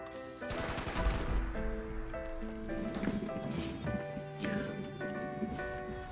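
A .50 caliber rifle firing in VATS in Fallout, with booming rapid shots layered over dense game music and effects, loud and continuous throughout.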